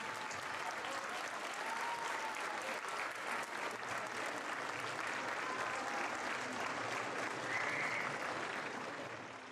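Sustained applause from an audience at a Nahuatl-language community gathering honouring lawyers and defendants, a dense steady wash of clapping lasting throughout at even loudness with a few voices faintly mixed in.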